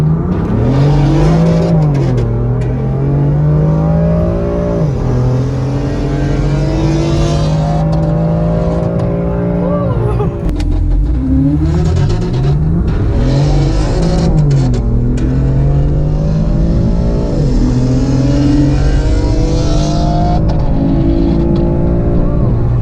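A car launches down the drag strip at the Slush Motorsport Fest, its engine loud and close, pitch climbing and dropping through repeated gear shifts across several hard pulls.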